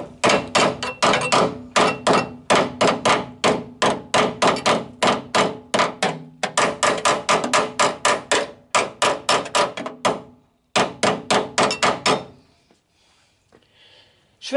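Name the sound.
hammer folding sheet metal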